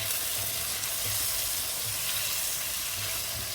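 Chicken liver fries in oil with onions, giving a continuous bright sizzling hiss, moderately loud and close, with faint low thumps of stirring and no talk.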